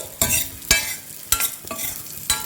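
Dry fruits stirred in a hot pan for dry fruit laddu, with four or five sharp scraping strokes of a spoon over a soft continuous sizzle, close and alone.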